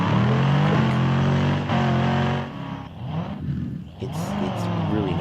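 A Bugatti Veyron SS police car in Garry's Mod roars with a loud engine note that rises and shifts through revs, with someone talking over it.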